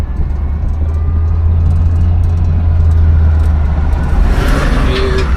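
A 1963 Pontiac Bonneville cruises with a loud, steady low engine drone from inside the cabin, the rumble holding even throughout with a faint tonal whine toward the end.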